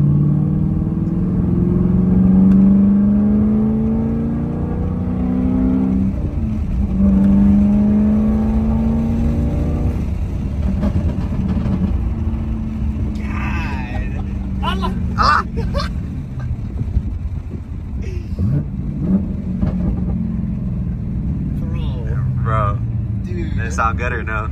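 A 2023 Camaro 1LE with a Texas Speed cam revs its exhaust in a deep, loud rumble that rises and falls in repeated pulls, with people talking over it throughout.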